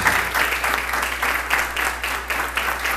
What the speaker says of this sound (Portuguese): Uma grande salva de palmas para a palavra de Deus.